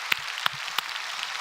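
A church congregation applauds at a Sunday service, a soft steady patter of many hands with a few sharper claps standing out, heard from a distance and without voices.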